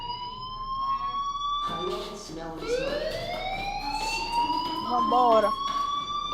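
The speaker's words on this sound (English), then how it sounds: "Hey, do you hear that fire alarm?" Inside the video game Life is Strange, a fire alarm sounds as a loud, rising electronic wail with steady tones. Voices speak over it.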